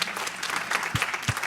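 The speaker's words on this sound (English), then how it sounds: "Let's give our round of applause for our" Audience applauding panelists at a domestic violence conference, a steady dense round of clapping throughout with a couple of low thumps, no talk.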